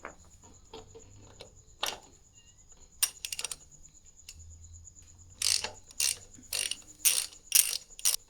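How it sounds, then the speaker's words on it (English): A ratchet loosening the front-wheel axle nut on a Harley Davidson Softail Heritage, with close, crisp bursts of rapid clicking repeated several times between quieter pauses and small metallic handling sounds, no talking. "we need to loosen the axle nut"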